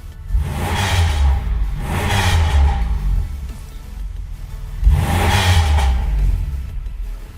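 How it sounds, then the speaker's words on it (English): A Pontiac Grand Prix engine revs hard in three loud bursts with a raspy exhaust note, each climb rising then falling back toward idle, close by with no talking. "I don't know if it's an aftermarket exhaust. It sounds raspy."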